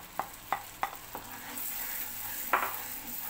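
Masala paste frying in a pan with sautéed garlic and ginger for paneer butter masala, a steady close sizzle broken by several sharp scraping stirs of a spoon against the pan.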